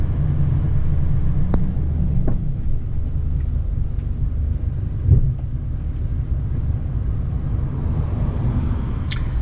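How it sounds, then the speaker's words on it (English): Road traffic rolling past on a street in Quartzsite, Arizona: a continuous low rumble of vehicles with a brief louder swell midway, heard without talking. "Gotta wait for all this traffic to go by before I try and do it."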